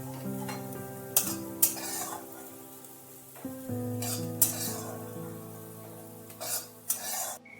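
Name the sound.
potatoes with poppy seed frying in a wok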